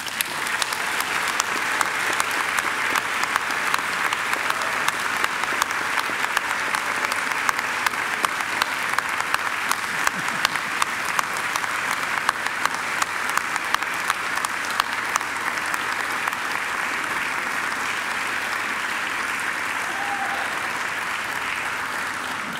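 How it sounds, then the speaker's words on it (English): Sustained, dense applause from a graduation audience fills a large hall, steady and even throughout, with many hands clapping at once and no pauses. "And now I invite you to give them a mighty round of applause."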